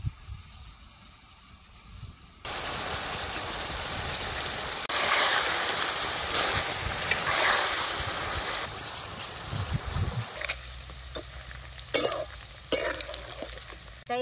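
Chicken pieces fry in hot oil with salt sprinkled on top, giving a continuous crackling sizzle that swells, with stirring and clinks of utensils near the end.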